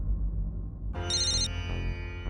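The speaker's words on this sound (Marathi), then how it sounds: "अरे बरोबर वेळेला फोन केलास तू." A phone ringtone starts abruptly about a second in and keeps playing as an incoming call rings, with a bright electronic melody above a steady low background hum.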